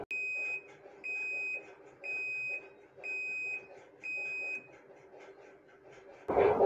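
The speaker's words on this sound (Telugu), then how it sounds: "ఈ విధంగా బీప్ సౌండ్ వచ్చిన తర్వాత మిషన్ అనేది ఆఫ్ అయిపోతుంది" A Panasonic washing machine finishing its tub hygiene cycle sounds five evenly spaced electronic beeps in a quiet room, followed by a brief burst of louder noise at the very end.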